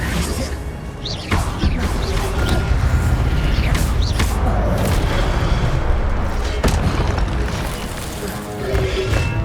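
An Incendio fire spell being cast in Hogwarts Legacy, a dense, loud roar of whooshing flame with booming bursts that carries steadily throughout without any pause.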